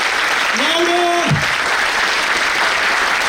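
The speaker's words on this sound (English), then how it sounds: "Let's have a huge round of applause for each one of you" Large conference audience of students applauding and cheering, a dense steady roar of clapping throughout with a voice calling out briefly over it.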